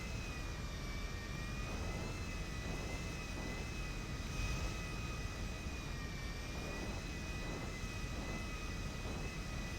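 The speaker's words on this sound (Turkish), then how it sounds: "Şimdi uçağımızı güzel de bir hangarımızın önüne çekelim hatta arkadaşlar." In GTA 5 Online, a jet plane taxis toward a hangar, its engines giving a constant whine and rumble that stay level and unbroken for about ten seconds.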